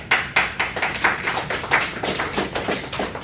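Steady rhythmic hand claps at a BARP tribute event honoring past presidents, coming in close, evenly spaced bursts with no talking.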